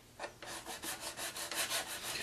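A Cylon Raider scale model is sanded with quick, rhythmic back-and-forth rasping strokes, about a dozen in a row, close and fairly quiet, with no talk.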